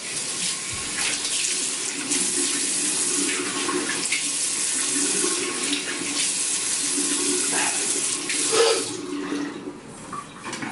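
Tap water runs steadily into a sink for about ten seconds while the face is wetted before a shave, a continuous broadband splashing with small shifts as hands move under the flow, close and fairly loud.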